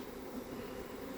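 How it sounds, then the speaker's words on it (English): Dense, steady buzzing of a mass of Italian honey bees during a swarm capture, a continuous close drone with no pauses or voices. "they're just gentle bees."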